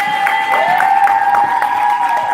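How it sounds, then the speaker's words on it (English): Loud, dense applause from a crowd at a poetry slam festival in downtown Las Vegas, steady and sustained with a bright whistle-like tone riding over the clapping. "Give it up for the poet!"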